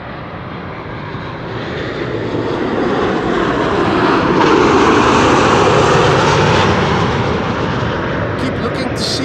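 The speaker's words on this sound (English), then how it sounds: "El Al next, arriving from Tel Aviv, as they always do." An El Al airliner arriving from Tel Aviv thunders past at Amsterdam Schiphol, its engines a loud, sustained roar that builds and holds, with a voice talking faintly beneath it.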